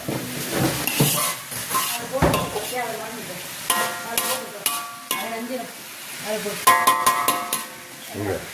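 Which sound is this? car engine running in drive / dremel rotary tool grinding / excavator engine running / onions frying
onions frying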